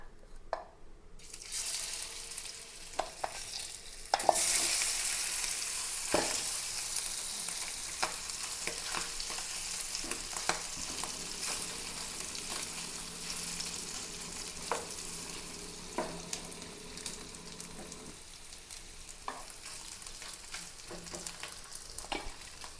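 Salted poomeen fish sizzles as it fries in a pan, a loud continuous crackle starting after a quiet opening, with occasional clinks and stirring sounds and no talking.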